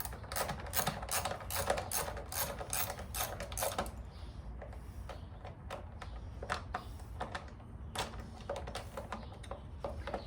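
A ratchet wrench loosens bolts on a Triumph Thruxton 900 airbox: a rapid run of close, crisp clicks, then slower scattered ratchet ticks and metallic clatter, with no speech.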